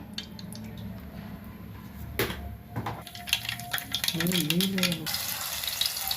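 Mustard seeds crackle and sizzle in plenty of hot oil in a kadai, with close, steady frying hiss, scattered pops and a few stirring clinks, while a faint voice murmurs partway through.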